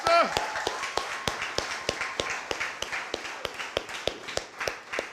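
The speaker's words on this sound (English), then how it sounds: "So let's give them a round of applause" Scattered, distinct claps from a small gathering at the opening of an NDC branch office and town hall meeting, loosely rhythmic and fairly close, with a short tonal sound at the very start.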